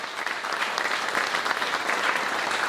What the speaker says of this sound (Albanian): dua një duartrokitje të fortë